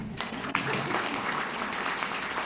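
An audience claps at a stage event, a steady wash of moderate applause running throughout with a couple of sharper individual claps near the start.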